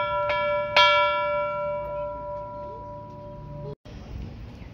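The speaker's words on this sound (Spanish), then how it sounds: "Hasta que se me hizo tocar la campana." The main bell of the chapel of Nuestra Señora de los Dolores in Guadalajara is struck twice, each time a bright, close metallic clang. The long ringing tones fade away slowly before other sounds begin.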